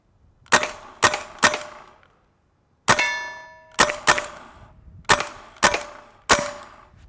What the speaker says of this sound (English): hopefully you could hear how quiet the rifle was and how loud those bullet impacts were